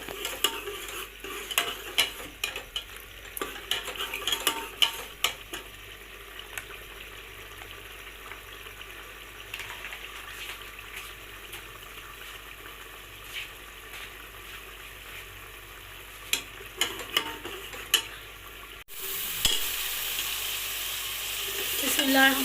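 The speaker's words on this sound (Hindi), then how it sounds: "1 कप घी डाला है इसमें। अच्छी तरह भुनाई करेंगे तकरीबन 5 से 10 मिनट।" Masala fries in a cup of ghee, sizzling steadily while a spoon scrapes and taps the pot in irregular strokes, with a brief louder hiss near the end.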